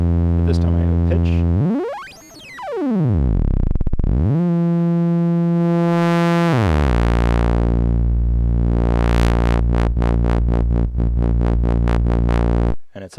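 Pure Data synth playing a complex tone through a filter: a harmonic-rich tone sweeps up and down in pitch, holds steady notes, then turns to a bright buzzy drone with rapid rhythmic pulses, loud and alone.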